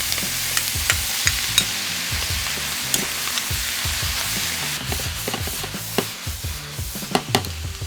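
Zucchini and onion are stir-fried on an LG Dios induction cooktop at high power, a constant sizzle under rapid, irregular scraping and tossing of the utensil against the pan, close and busy.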